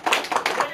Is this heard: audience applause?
yes